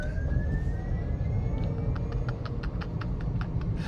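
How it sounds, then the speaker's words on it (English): A 2024 Mullen One electric van's rear-mounted motor whines under road noise, a thin tone rising steadily in pitch as the van accelerates, with a faint rapid ticking pattern joining in partway through. "This might be more motor noise than a GM vehicle in sport mode."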